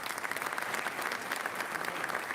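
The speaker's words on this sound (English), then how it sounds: "Give yourself a round of applause." Steady applause from a crowd, dense clapping sustained throughout without a break.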